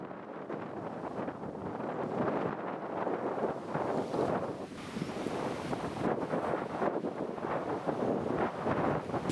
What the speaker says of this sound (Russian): сильно дует ветер